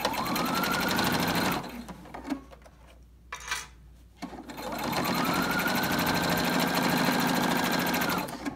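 A sewing machine runs in two loud, fast bursts of stitching, separated by a brief pause with faint clicks and handling sounds, while a bobbin feeds thread underneath.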